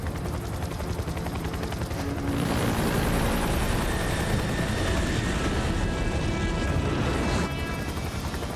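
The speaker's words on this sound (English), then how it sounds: "I'm in a civilian helicopter." A civilian helicopter's rotor thumps steadily with a loud mechanical whine, growing fuller after a couple of seconds and staying close throughout.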